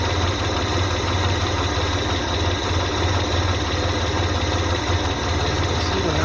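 A 1985 Ford Ranger engine idling after a rebuild, a steady, even low rumble with a constant vibration that runs without change and is not interrupted by talk.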